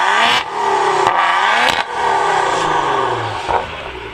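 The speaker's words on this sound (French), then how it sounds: "maintenant on a l'échappement sport" Maserati Ghibli engine revved hard with the sport exhaust valves open, loud and close, several sharp blips and rising surges broken by crackling pops and brief drops between revs.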